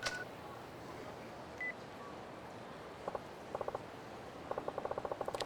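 Phone dialing in the Yakuza 4 Remastered video game: a short beep, then a quick run of crisp keypad tones tapped in small bursts over a quiet, hushed background.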